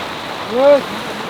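Steady rain hisses throughout, with a brief voice-like rising tone rising over it in the middle.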